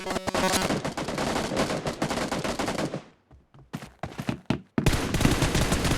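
Rapid automatic gunfire in PUBG Mobile's team deathmatch, with dense, loud bursts for about three seconds, then a few scattered sharp shots after a short lull, and finally another sustained burst.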